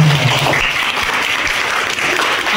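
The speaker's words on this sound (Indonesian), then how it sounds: "Oke, tepuk tangan." Audience applause in a university classroom, a steady dense wash of clapping that fills the room evenly from start to finish with no voices over it.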